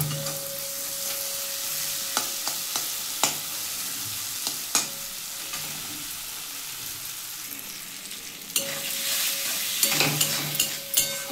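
Onions and tomatoes sizzle steadily in a pan while a spoon stirs and scrapes through them at irregular intervals, with occasional sharper clacks against the pan and no talking.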